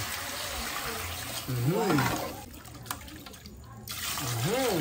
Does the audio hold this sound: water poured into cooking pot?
yes